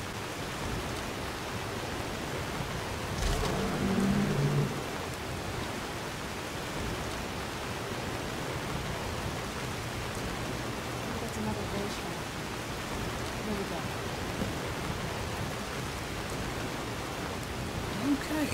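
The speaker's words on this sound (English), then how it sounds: "Why is it raining in here?" Steady rain falls inside a cave in the video game Skyrim, a constant hiss of drops spread evenly through the whole stretch, with brief voice-like sounds partway through.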